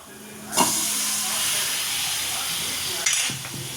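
Eggplants dropped into hot oily masala, a sudden loud sizzle and steamy hiss that holds steady for a few seconds, then a second burst as more goes in, close up.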